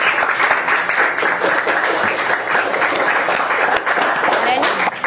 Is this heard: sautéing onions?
no